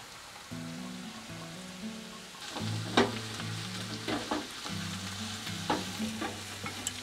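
Apple pieces fry in lard with browned onion in a pan inside a camper van, giving a soft, steady sizzle broken by scraping stirs and sharp crackles.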